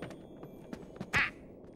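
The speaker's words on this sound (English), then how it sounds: "Maybe it's a duck?" A duck quacks once in the video game Mario + Rabbids Sparks of Hope, a short, bright, nasal call that stands out over quiet game ambience and a few soft clicks.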